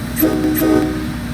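An MBTA F40PH-3C diesel locomotive in the Train Sim World 2 game rolls along the Northeast Corridor near the Stoughton Line, with a steady loud engine drone and two short high squeals or horn blips over the rumble.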